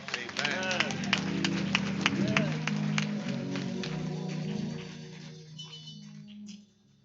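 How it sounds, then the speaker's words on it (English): A church congregation applauds its junior ushers during a Sunday worship service, a dense wash of clapping from many hands with voices and a tune mixed in, thinning out and fading toward the end. "Give our junior ushers a round of applause"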